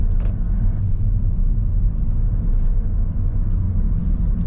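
Low, steady road rumble and engine drone inside a moving Mercedes A180 hatchback, the cabin noise even and muted throughout.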